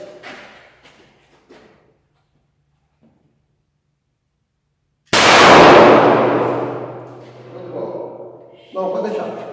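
A single loud pistol test shot, fired after cleaning and overhaul, cracks sharply and rings out in a long decaying echo after quiet talk; voices resume as the reverberation fades.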